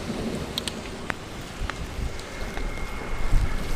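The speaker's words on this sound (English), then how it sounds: "It's raining." Steady rain hisses down around a bicycle commuter on a wet ride with rim brakes, a broadband wash of drops with a few sharper splatters, fairly close and even throughout, no talking.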